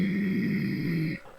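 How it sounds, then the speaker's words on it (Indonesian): A creature growling softly as a story sound effect, a low, rough sustained rumble lasting about a second that stops abruptly, heard alone. "dia pun menggeram pelan"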